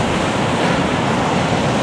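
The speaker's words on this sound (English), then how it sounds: "Sheltering down behind the rocks out the wind here." Gusting wind and breaking surf on the shore at Aberlady Bay, a loud, steady roar of waves with wind buffeting the microphone, heard close and continuous with no voices.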